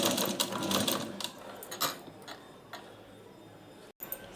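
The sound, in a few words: sewing machine stitching blouse neck piping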